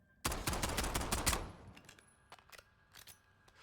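An unsuppressed 1911 pistol fires in a video game: a rapid burst of sharp, loud shots over about a second, followed by fainter scattered clicks and mechanical clatter as the sound dies away.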